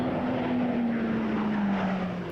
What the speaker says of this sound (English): commonly been referred to as the Hummer because of the unique sounds of its turboprop engines